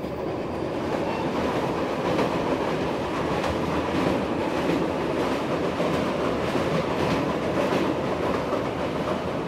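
A passenger train in India runs on the rails toward Kathgodam in the Himalayan foothills, a continuous rumbling clatter of wheels and carriages with a steady rhythmic clack, heard from on board and with no talking.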